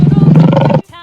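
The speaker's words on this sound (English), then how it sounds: "Lion." A lion gives a short, loud, close roar lasting under a second, cutting off abruptly, with a voice present alongside it.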